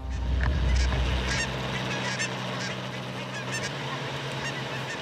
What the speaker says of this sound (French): Il y a une oie qui est là.